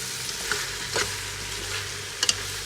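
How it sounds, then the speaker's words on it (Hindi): Bitter gourd and mutton fry in a pan for Lahori karela gosht, a continuous close sizzle broken by scrapes and stirring strokes and a couple of sharp clinks near the end. "अब इसके करेलों को भी साथ ही डाल दिया और मिक्स करते हैं"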